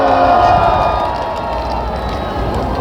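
A large outdoor crowd at a patriotic citizens' rally in Gwanghwamun, Seoul, roars with loud, sustained cheering and applause, a dense wash of many voices and hands that stays steady throughout.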